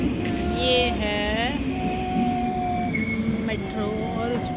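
A metro train pulls into Kontula station in Helsinki, its steady rumble filling the platform while high wheel squeals rise and fade over the first seconds and briefly return near the end.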